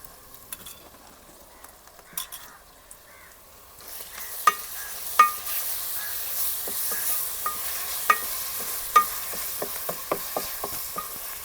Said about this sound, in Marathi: हे हिरवं वाटण आहे ते आपण टाकून घेऊया आणि हे पण त्याच्यामध्ये शिजून घेऊया थोडं पाच मिनटं